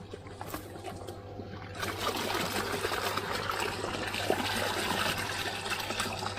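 Water flowing steadily from an aquarium airlift pump, a strong continuous bubbling gush close by, with a low steady hum beneath it.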